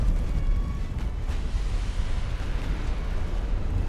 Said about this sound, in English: China suffered another torpedo detonation.